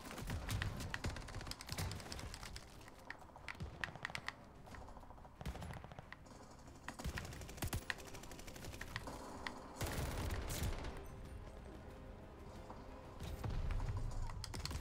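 Assault rifle fire in Call of Duty Vanguard, with repeated bursts of rapid shots and scattered single cracks that come and go amid game action and other noises, loud and close throughout.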